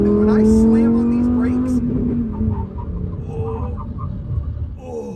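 Lamborghini Huracan Tecnica with 6-piston front and 4-piston rear brakes stopping hard at speed, the engine note sliding down in pitch as the car sheds speed, then settling into a lower rumble with road noise.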